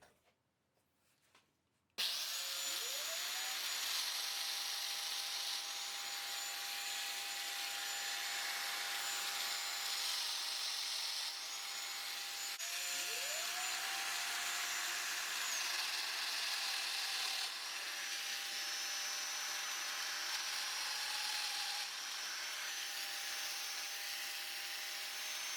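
A power tool plunge-cuts joinery slots into wood: a sharp start-up after a short quiet lead-in, then a sustained loud whine with steady high motor tone, restarting twice with brief spin-ups, close and alone.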